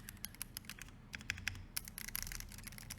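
Typing on an Akko ACR Pro 68 mechanical keyboard: a quick, uneven run of close, crisp key clicks and clacks, with no talking.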